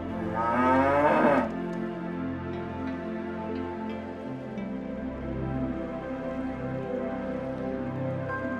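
Calves at a farmhouse petting farm moo in a loud, close bellow at the start, followed by several softer, lower moos and a faint patter of rain.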